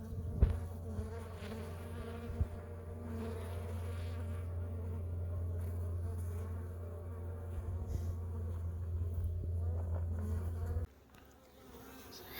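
Honeybees drone steadily around their hives, a continuous close buzzing hum that holds for most of the stretch before dropping away near the end.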